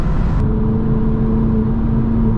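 A vehicle engine hums steadily from inside the cab while on the move, a smooth continuous drone with a faint tonal whine running under it, fairly loud and even throughout.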